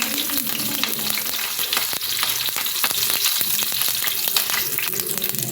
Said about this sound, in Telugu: ఈ పోపు కొద్దిగా వేగాలి